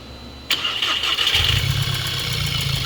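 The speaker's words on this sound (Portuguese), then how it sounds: "Funcionei o carro" A Volkswagen TSI petrol engine, under diagnosis for a hard-to-find cylinder misfire, cranks with a sharp onset and catches, then settles into a steady close idle with a low rumble.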